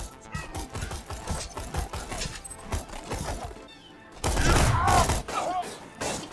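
Rapid gunfire from Borderlands 2, dense bursts of shots crackling continuously, swelling louder toward the end.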